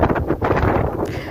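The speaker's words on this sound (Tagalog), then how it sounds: "napakalakas ng hangin dito" Strong wind buffets the microphone at an open-air monument in Georgia, a loud, rough, low rumble that gusts unevenly for about a second.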